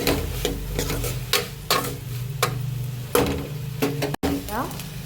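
Pumpkin poriyal with salt and turmeric stirred in a pan: soft sizzling under a series of distinct spatula scrapes and taps against the pan, close and fairly loud, with a brief dropout near the end.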